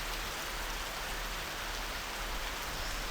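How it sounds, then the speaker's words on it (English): Steady rain falling during the rainy season on Koh Kood, Thailand, a dense continuous hiss of drops at even loudness throughout with no voices. "So you got to expect a little bit of rain from time to time."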